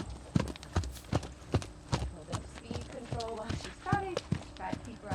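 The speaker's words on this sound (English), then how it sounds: "just work on a little bit of speed control while she's trotting" A horse on a lunge line trots with a steady, rhythmic clip-clop of hooves at close range, while a person speaks intermittently over the footfalls.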